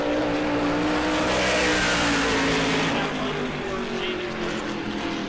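NASCAR Whelen Modified race car, number 18, on a qualifying lap at New Smyrna, its engine a loud sustained roar that holds steady then eases slightly as it passes, with a commentator talking over it.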